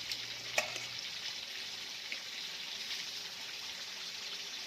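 Fish frying in oil gives a quiet, even sizzling hiss throughout, with a sharp clatter near the start and a faint tap later; no talking.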